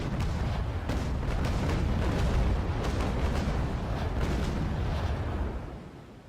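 Naval guns on a warship fire in a video game, a continuous rumbling barrage of heavy booms rolling together, loud and dense, then tapering off at the end.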